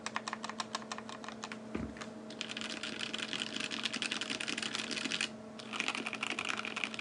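Rapid, dense clacking comes from typing on a KBDFans D60 Lite 60% budget mechanical keyboard, close and continuous with one short pause and a thump partway through, and no talking.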